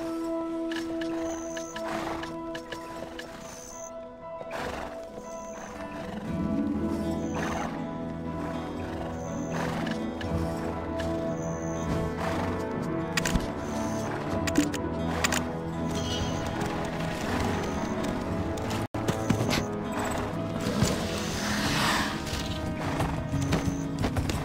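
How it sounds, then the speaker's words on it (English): Horse hooves clip-clop at a steady gallop across an open field in the video game Black Desert Online, with occasional neighs over a continuous music bed; the hoofbeats stay close and moderately loud throughout. "Try sprinting across an open field on the back of a horse."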